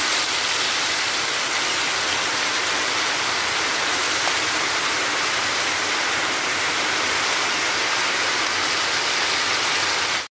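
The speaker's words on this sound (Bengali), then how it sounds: "তো এবার দেখুন তেলটা গরম হয়ে গেছে, মাছের মাথাগুলো দিয়ে দেবো।" Katla fish heads drop into hot oil and fry with a loud, steady hissing sizzle that stays constant and close throughout, alone without any voices.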